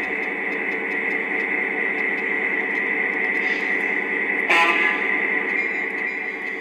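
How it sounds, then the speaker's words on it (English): A Lionel model train runs with a steady electronic hum and motor drone, and a short horn-like burst sounds midway, fairly loud and alone without talk. "I'm going to turn the train on now."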